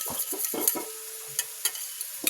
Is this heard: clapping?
no